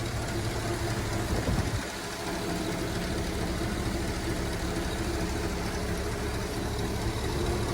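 Engine of a 1955 Imperial Newport idling smoothly, a steady low, even drone throughout with a brief dip around two seconds, no voices over it.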